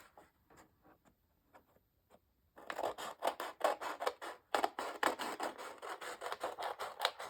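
Scissors snip through magazine paper close up, starting with a few faint isolated cuts and then settling into a steady run of crisp, rhythmic snips and rustles.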